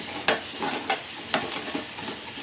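Spoon stirring and mixing into an onion-garlic masala in a pan, giving a series of scraping strokes with sizzling in between, close and moderately loud, with no talk.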